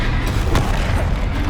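Spell blasts in the video game Hogwarts Legacy, with a couple of sharp booming impacts rising out of a loud, churning battle din over a short stretch.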